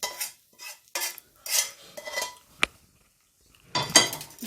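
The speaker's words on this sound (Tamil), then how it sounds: "நல்லா சாதத்தில் கலந்து விட்டுக்குவோம்." Coconut rice mixed in a bowl with a metal spoon, bursts of scraping and stirring separated by short pauses, a sharp clink of utensil against the bowl midway, close and fairly quiet with no speech.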